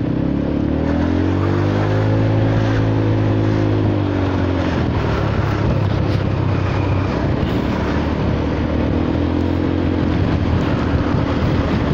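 A Honda Forza 300 scooter's exhaust rising and falling in revs as it rides, with two clear swelling throttle sweeps over a constant loud road and wind roar.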